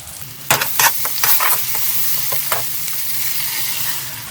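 Spinach is stirred in a hot, sizzling pan while palak paneer cooks with onion, salt and garam masala. A steady frying hiss runs under several scraping stirs near the start.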